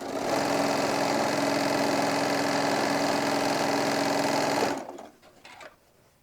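A sewing machine stitches folded fabric over ribbon on a hobo bag, running in one steady, loud, close whir for nearly five seconds, then stopping to faint handling sounds.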